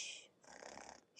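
A group of children at a storytelling session imitate loud snoring with their voices, giving one short, breathy, rasping burst.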